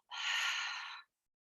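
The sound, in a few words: people yawning during a mindfulness breathing exercise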